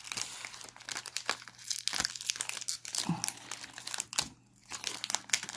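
Pokémon booster pack wrapper being torn open, close crinkling and ripping of foil plastic with rustling handling noises in fits and starts.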